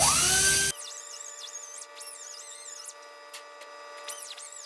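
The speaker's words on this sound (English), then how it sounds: "new grinder. Sure spins a lot faster than another one." A new electric grinder whines at a high pitch while deburring a lightweight metal panel, its steady tone wavering as the tool works, with a brief louder burst at the start.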